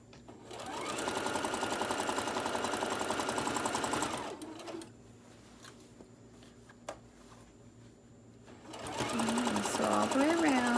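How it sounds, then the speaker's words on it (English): Sewing machine stitching fabric for a small tote bag, a close steady whirring run that pauses for several seconds of quiet handling, then starts again while a voice speaks. "I'm lining up my presser foot with the edge of my fabric."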